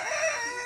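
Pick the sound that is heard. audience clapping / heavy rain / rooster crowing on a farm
rooster crowing on a farm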